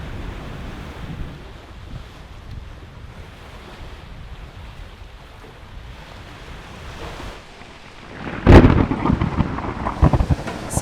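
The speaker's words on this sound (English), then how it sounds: "there's lightning all around us and we have to slow down anyway to avoid a weather system gobbling us up" Thunder rumbling from a lightning storm at sea aboard a sailing boat far from land, a low steady roar with wind and waves, then a sharp louder crack near the end.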